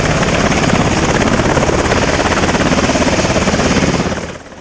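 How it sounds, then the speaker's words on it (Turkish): A Sikorsky military helicopter with night-vision equipment flies close and loud, its dense rotor chop and turbine roar steady throughout, then cutting off abruptly near the end. "Malatya'dan kalkan gece görüş sistemine sahip Sikorsky tipi helikopter"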